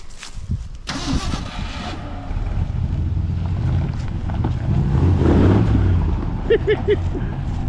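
A 1968 Ford F100 Ranger pickup, just revived after years abandoned, starts and runs with a loud, close engine drone that swells as it moves off, with a voice briefly heard over it.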